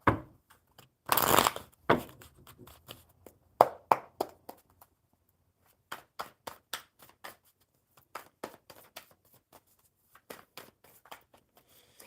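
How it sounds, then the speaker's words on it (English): Playing cards being shuffled up close: a loud riffle and bridge, then a run of sharp snapping taps as the deck is squared and cut. "One more good shuffle."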